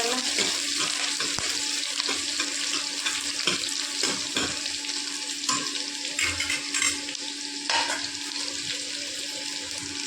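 Green chilies fry with roasted cumin in a pan, giving a continuous close sizzle with scattered sharp crackles and spatters throughout, with no talking.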